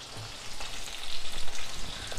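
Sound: lemon pieces frying in oil for lemon pickle

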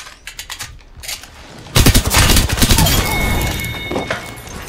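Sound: gunfire in the video game Apex Legends

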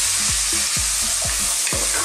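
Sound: bacon frying and being stirred on high heat

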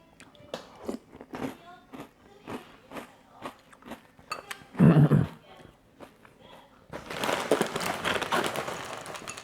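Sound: crunching and chewing Kellogg Kakao Friends cereal

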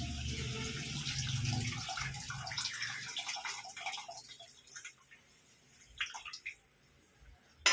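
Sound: pouring tamarind water into the pot

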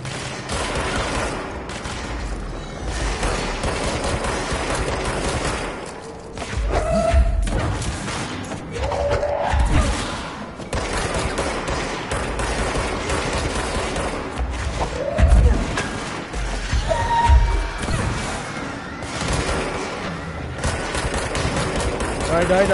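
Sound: enemies shooting missiles in the video game Control

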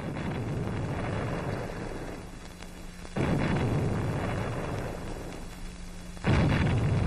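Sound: explosions from bombing during an air raid in a war film

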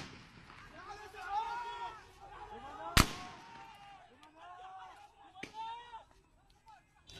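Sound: live gunfire at protesters

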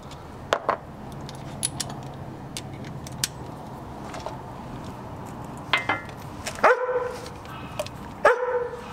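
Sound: dog barking

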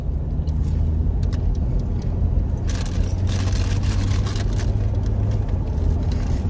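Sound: car driving on a mountain road

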